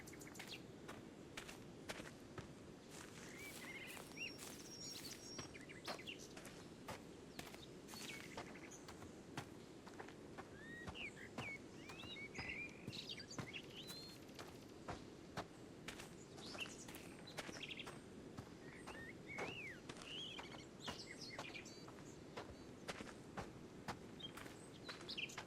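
Birds singing in a video game forest, with faint chirps and tweets scattered over a quiet ambient bed and a steady patter of footsteps walking along a path.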